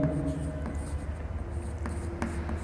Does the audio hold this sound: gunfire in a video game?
no